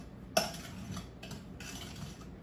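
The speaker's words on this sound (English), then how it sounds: "Stir it all up." A spoon stirs gluten-free chocolate zucchini bread batter with baking soda and cinnamon in a bowl. One sharp clink is followed by soft, quiet scraping strokes.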